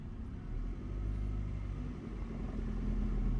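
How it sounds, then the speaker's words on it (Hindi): A car pulls away in first gear on light accelerator, its engine a steady low rumble that rises gently, close by with no talking. "अब गाड़ी को हल्का एक्सीलेटर के साथ उठाओ, रोको फिर बढ़ाओ, रोको फिर बढ़ाओ"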